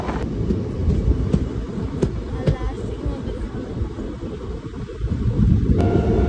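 Guntur Express passenger train running from Nandyal toward Guntur, a steady loud low rumble of wheels on track with rattling clatter throughout, close and continuous, with a few sharp knocks and a louder swell near the end.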